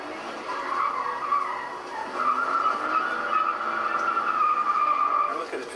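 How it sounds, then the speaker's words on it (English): A car skids off a driving course under heavy throttle, a sustained tire squeal and engine whine that carries loudly for several seconds with no clear break. "Craig guns the gas so hard that he can't even stay on the course."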